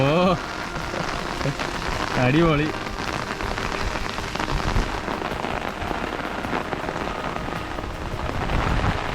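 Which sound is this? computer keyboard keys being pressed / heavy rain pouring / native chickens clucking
heavy rain pouring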